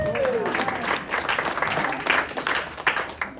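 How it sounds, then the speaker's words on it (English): A comedy show audience breaks into applause, a dense burst of clapping that swells and flickers for a few seconds in the room. Some voices rise faintly underneath. "Some of you guys clapped pretty hard there for a second."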